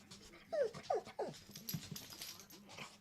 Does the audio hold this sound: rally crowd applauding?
no